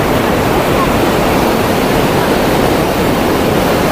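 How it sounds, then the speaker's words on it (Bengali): Strong river current rushing and roaring steadily up close on the Kedarnath route in the mountains, a dense, unbroken wash of water noise that fills the whole clip. "বাপরে কি স্রোত জলের"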